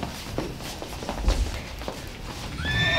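A horse whinnies near the end, a rising, shrill neigh, after soft hoof thuds and muffled shuffling.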